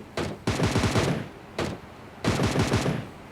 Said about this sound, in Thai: น่าจะค่อยๆยิงหยอดหวังว่าจะให้โดนหัวเรานะคะ